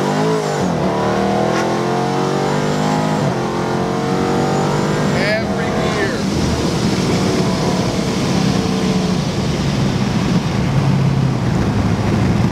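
A modified 700+ wheel-horsepower Dodge Charger Scat Pack revs hard through several gears, pitch climbing then dropping at each shift, with a loud, rough exhaust drone close by.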